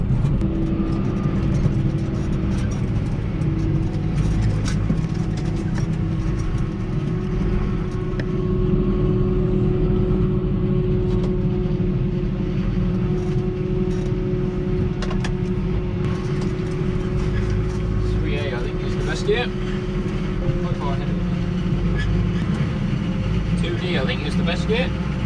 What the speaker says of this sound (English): Forager working.